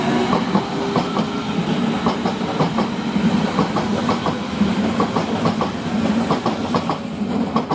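An S-Bahn class 484 train on line S47 rolls out of the station, its wheels beating a steady, loud clickety-clack over the rail joints with motor hum beneath, heard without any talk.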